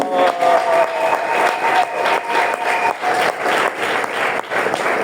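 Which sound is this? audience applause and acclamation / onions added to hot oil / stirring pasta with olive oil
audience applause and acclamation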